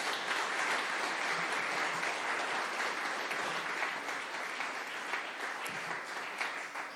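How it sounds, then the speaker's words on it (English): Sustained audience applause fills a grand opening ceremony at a recovery center, steady dense clapping from a crowd that holds strong throughout and eases slightly toward the end. "por favor, un fuerte aplauso para John."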